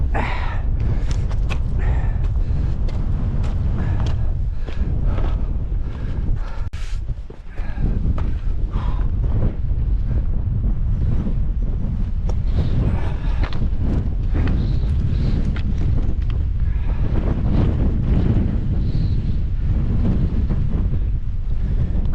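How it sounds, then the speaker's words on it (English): Strong wind buffeting a microphone high on a mountain ridge in the Coledale Horseshoe fells, a loud continuous low roar with gusty surges throughout, no voices heard. "Bit breezy up here."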